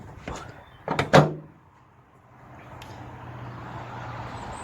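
Boot lid of a 1973 MG Midget under restoration thudding shut, a quick double knock of metal closing up close, followed by quiet low background hum.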